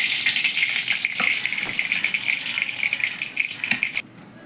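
Hot oil sizzling in a pan after katla fish has been fried, a steady close hiss lasting several seconds with a few faint clicks, no voices.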